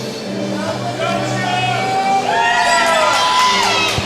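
A graduation crowd shouts, whoops and cheers loudly all around in a large gathering, with high voices rising over the mass of noise.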